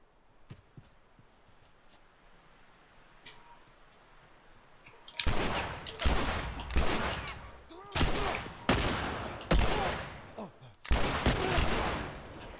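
Gunfire erupts in The Last of Us video game after a quiet stretch: a series of loud, sharp shots in uneven bursts over the second half, with a low ambient bed and faint speech.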